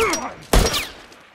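A single sharp gunshot cracks in the middle of a short burst from The Last of Us Factions, with game voices and effects around it.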